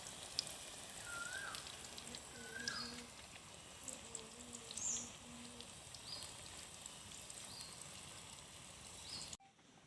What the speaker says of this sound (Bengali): আমি এভাবে করে সব কচুগুলো ভেজে নেব।